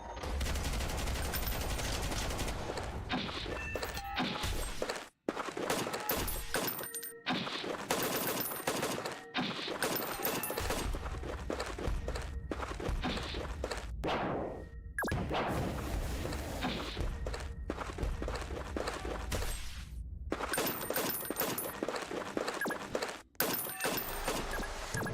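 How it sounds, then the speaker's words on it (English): Machine gun firing in volleys in the video game Noobs in Combat, with rapid bursts of gunfire and thumping impacts. The bursts repeat over and over, separated by brief near-silent gaps, and sound dense and fairly distant. "Wow, that is a 5 volley machine gun."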